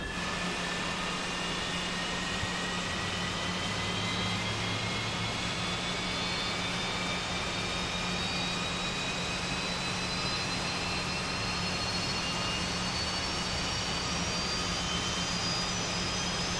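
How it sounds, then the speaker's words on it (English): A regional jet's engine spools up during start in Microsoft Flight Simulator, a steady loud whine that rises slowly in pitch over a constant low hum, with no talking. "But I love these little engines, man. They sound so good."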